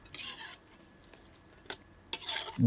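A utensil scrapes and stirs duck meat with coconut milk in a pot, giving a few short raspy bursts separated by pauses. The sound is close and moderately quiet, with a clack near the end.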